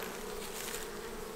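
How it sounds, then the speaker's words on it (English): Honey bees fly at a hive entrance, a dense steady buzzing hum of many insects close by, continuous and even for a brief moment with no voices. "are the bees coming and going?"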